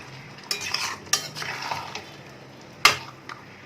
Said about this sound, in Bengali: আগে মাংসটা ভালোভাবে কষে নেব